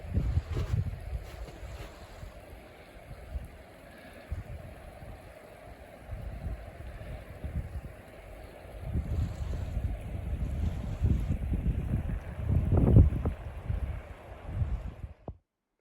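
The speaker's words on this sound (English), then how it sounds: "This was a very windy day, so sorry for all that wind." Heavy wind buffeting the microphone, low rumbling gusts that rise and fall, strongest in bursts toward the end, with no talking.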